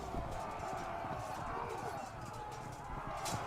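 Horses charge in the medieval strategy game Field of Glory II Medieval, a steady rumble of galloping hooves with a dense clip-clop texture throughout, fairly loud and continuous.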